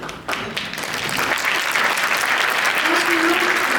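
An audience at a California legislature event breaks into sustained applause, a dense wash of clapping that swells quickly after a brief lull and holds steady and loud to the end.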